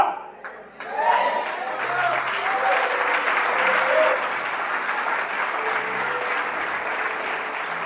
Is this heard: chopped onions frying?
no